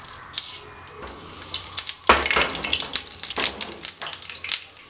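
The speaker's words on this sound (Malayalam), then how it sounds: "എണ്ണ ചൂടായി വന്നിട്ടുണ്ട്. അതിലേക്ക് ഒരു 1/2 ടീസ്പൂൺ കടുക് ഇട്ട് കൊടുക്കാം." Mustard seeds crackle and sizzle in hot oil in a pan, with a steady spitting hiss and bursts of sharp pops that grow busier partway through.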